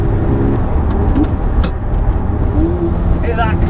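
A big, heavy supercar driving with its distinctive mechanical click-clack, close and fairly loud, with engine and road noise running throughout and sharp transient clicks standing out; a voice talks over it.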